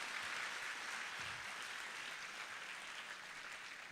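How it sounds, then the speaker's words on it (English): An audience in Guwahati applauds the quiz master at a quiz event, a broad, even wash of clapping from many hands that fades slightly over four seconds. "Can we hear a big round of applause from all of you?"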